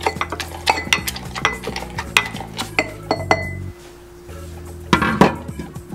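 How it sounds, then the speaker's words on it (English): Five raspberries and a small rosemary sprig being muddled in a glass for a cocktail: rapid, close, repeated thuds and clinks of a muddler against glass, pausing briefly before a final burst of grinding strikes. "Give that a good muddle."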